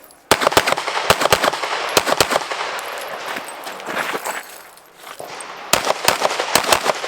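Gunfire on a USPSA practical shooting stage: clusters of sharp, loud shots in quick pairs and strings, separated by brief pauses, with outdoor background noise between bursts.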